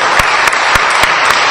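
A church congregation applauds in unison at a Eucharist service, a dense, steady wash of many hands clapping with a few sharper individual claps standing out.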